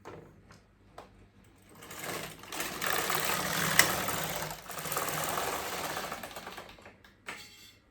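An LK150 knitting machine carriage is pushed across the needle bed while knitting a fair isle row for a vest, making a long, steady, close clattering whir of several seconds with softer clicks before and after.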